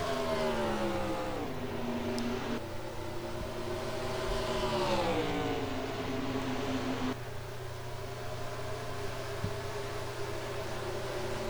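Race cars accelerating away at the green flag at Dover in a racing simulator, with droning engines whining upward in pitch as they pull through the gears, layered together under steady road noise.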